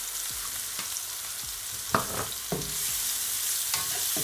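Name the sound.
stirring ground beef with taco seasoning in a frying pan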